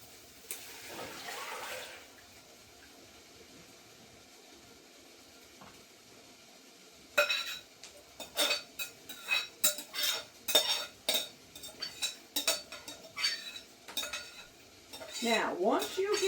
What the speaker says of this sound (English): once you get your pot going with your peas in there, you make sure you keep stirring